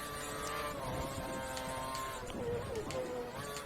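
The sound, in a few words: race car engine in video game F1 2013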